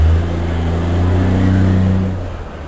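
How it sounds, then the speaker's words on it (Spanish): A car passes close by, its engine a steady low droning rumble that builds, holds for about two seconds, then fades as it moves away. "aquí pasó un carro, pero pasó echando ruido"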